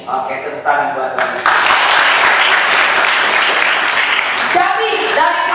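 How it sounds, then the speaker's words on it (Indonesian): Audience at a holiday Bible school session breaks into loud, steady clapping after a brief spoken lead-in, the applause filling the room and continuing to the end with a voice returning briefly near the close. "tepuk tangan buat Tuhan"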